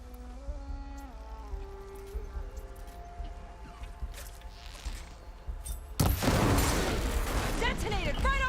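A loud explosion goes off in Horizon Forbidden West as a machine is hit, a sudden broadband blast that swells into rumbling debris and crackle, following a stretch of tonal game music and ambience.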